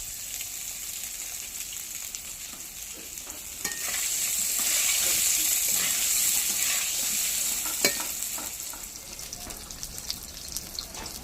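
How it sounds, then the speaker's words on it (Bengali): Eggplant frying in hot oil with a light crackling sizzle that swells louder midway, with occasional stirring clicks and no talk. "তেল গরম হয়ে গেছে আমি বেগুনটা ভেজে নেব"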